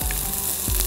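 Curry leaves crackle and sizzle sharply in hot oil with onion and green chillies, a brief, loud, close frying burst.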